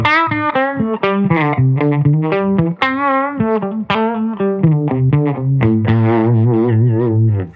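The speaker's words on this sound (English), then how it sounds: "I really wanted the harmonic tremolo to shine." Electric guitar playing a chordal melody through a Jam Pedals Harmonious Monk harmonic tremolo, warbling, loud and close, with a slightly overdriven, shimmering tone.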